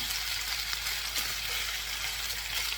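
Steady crackling sizzle of Mongolian beef frying in a hot pan, continuous and close, with no one speaking.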